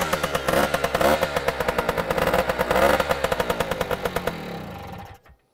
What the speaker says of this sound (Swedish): Det är en gammal Monaskoter med en Nilo-motor i.